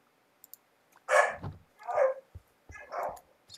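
Game dogs in a Minecraft Direwolf20 1.16 modpack barking, three short bursts spaced about a second apart, moderately loud with small clicks between them.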